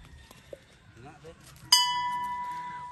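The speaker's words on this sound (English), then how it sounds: "Bell of happiness." A single bright metal bell rings out at a resort in the Philippines, one clear strike ringing on and fading slowly, after faint voices and quiet background.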